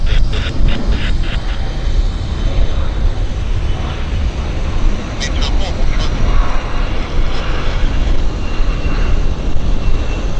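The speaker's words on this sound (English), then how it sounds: "More aircraft coming out, and we've got a Q400 on the turning onto the active" A Q400 turboprop airliner taxiing onto the active runway at Vancouver airport, a steady broadband engine drone with faint propeller tones, heard from a distance over continuous wind and ambient noise, with a voice talking intermittently.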